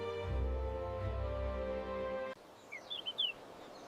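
Cheerful birds singing in spring fields, a few brief high chirps and whistles heard faintly and close together, following a fading sustained musical tone.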